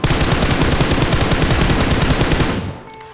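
Sustained automatic machine gun fire from the mobile battle royale game PUBG Mobile rattles loud and close in a rapid unbroken burst, then cuts off abruptly near the end.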